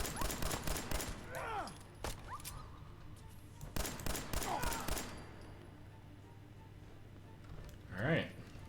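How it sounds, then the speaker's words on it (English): Rapid bursts of gunfire from Fallout 4 crack out in clustered volleys, loud and close, separated by short pauses, with a person's voice cutting in between the shots. "I'm gonna be shooting at Pinky."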